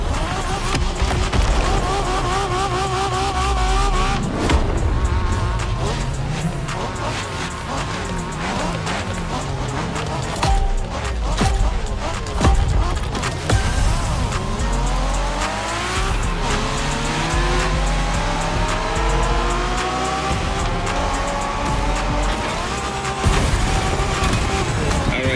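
A street-racing car in the video game The Crew Motorfest revs its engine steadily, rising and falling in pitch, with bursts of tire squeal and skidding over a dense, continuous backdrop of game sound and music.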